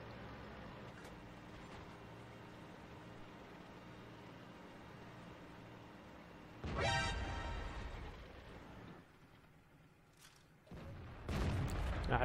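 Two heavy tank cannon shots in World of Tanks, firing from a Type 59 tank, each a loud boom with a rumbling tail over a low engine drone, the second coming a few seconds after the first.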